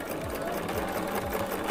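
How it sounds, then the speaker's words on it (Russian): A sewing machine stitches a clutch bag, running continuously with a steady fast rhythmic hum and needle clatter, close and fairly loud throughout. "я прикладываю к предыдущей строчке, опускаю лапку и шью."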